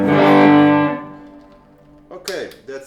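An electric guitar chord rings out through a distortion pedal on its lower-gain channel, sustaining loudly and fading over about a second before a few quieter picked notes follow.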